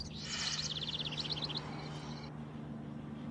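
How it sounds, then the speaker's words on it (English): A dry bird-tweet sound effect with no reverb plays a quick run of bright chirps and trills, close and fairly quiet, over a low steady hum. "it almost sounds like the bird's kind of sitting on your shoulder and tweeting in your ear"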